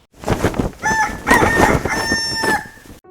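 Chickens clucking with a rooster crowing in a backyard flock, close and fairly loud, overlapping calls throughout with no talk.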